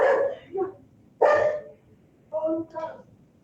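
A dog barks near the microphone, three or four sharp separate barks spread over a few seconds, loud and clear with no talk over them.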